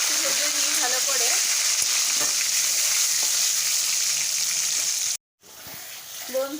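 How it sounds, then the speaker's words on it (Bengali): Cut potatoes fry with cumin seeds in a hot pan, a loud continuous sizzle with occasional stirring scrapes that breaks off suddenly near the end before a softer sizzle returns. "এবার আলুগুলো একটু ভেজে নিই ভালো করে।"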